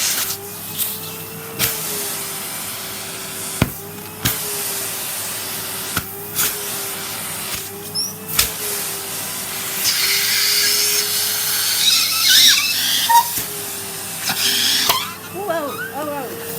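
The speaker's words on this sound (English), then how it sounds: "I forgot to vacuum my gloves" A vacuum cleaner run over gloves at home, a steady whirring drone with a hum beneath it and a brighter hiss rising toward the end, close by, with clicks and handling knocks and some speech around it.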